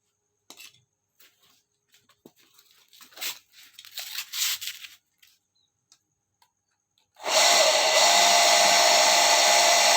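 A Shimizu water pump is switched on after a few faint clicks and handling noises, then runs with a loud, steady, broadband motor whir that continues to the end.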